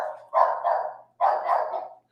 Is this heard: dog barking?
yes